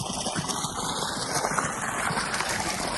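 Water gushes continuously from a Mecwin solar-powered borewell pump discharge pipe on a farm, a steady close splashing rush with faint mechanical hum and no voices.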